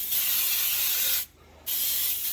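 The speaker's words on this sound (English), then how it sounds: "just start spraying away" Cooking spray hisses steadily from an aerosol can onto a turkey, stops briefly, then resumes with the same loud, close, continuous hiss.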